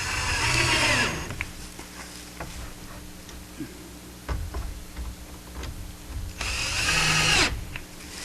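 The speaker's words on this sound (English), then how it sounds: "There's 4 screws that'll hold that in place." A power drill drives screws into an automatic chicken coop door. Two loud whirring bursts, one at the start and one near the end, are separated by quieter handling clatter and a few small clicks.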